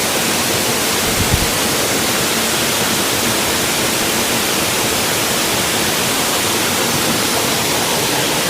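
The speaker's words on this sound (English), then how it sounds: "we chased this waterfall and caught it, kinda." A waterfall along the Blue Ridge Parkway near a cave, its dense, steady roar of falling water loud and close and filling the whole stretch, with no voices.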